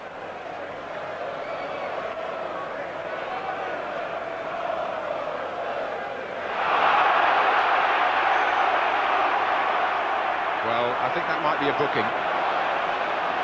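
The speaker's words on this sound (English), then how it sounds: "The crowd on the far side reacted to the tackle" Football crowd at a 1990–91 Nottingham Forest versus West Ham United match rising into a loud, broad roar after a tackle, heard from a distance beneath a commentator talking throughout.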